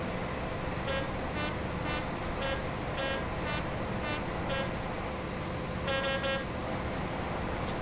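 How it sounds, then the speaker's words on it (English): An HST train horn in Train Simulator Classic sounds in a series of short, repeated toots, then a longer blast, all over a steady engine rumble. "Right, I'll lay off the horn now."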